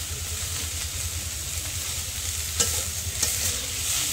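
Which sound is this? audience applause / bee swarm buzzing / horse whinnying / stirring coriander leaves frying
stirring coriander leaves frying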